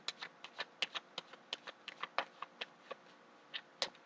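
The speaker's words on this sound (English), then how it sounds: "One more shuffle" Tarot cards are shuffled in quick, light riffling taps, a run of soft clicks and flicks close by with brief gaps.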